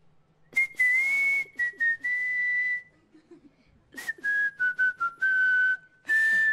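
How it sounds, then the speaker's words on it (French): A person whistles a clear, bright tune on stage at a televised family talent contest final, in short phrases and longer held notes with brief pauses between them, alone with no talking. "Il paraît que tu siffles."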